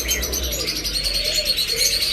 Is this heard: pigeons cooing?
yes